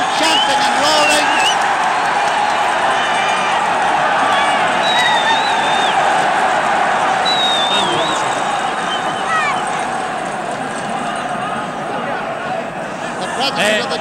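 A Cork crowd at the 1966 All-Ireland hurling final against Kilkenny, chanting and roaring loudly throughout, with shouts and whistles, under a commentator's voice.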